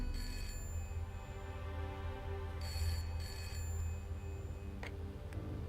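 Telephone ringing during a call in the video game Broken Sword, repeated electronic ring bursts in a regular pattern over a steady low hum, clear and alone without speech.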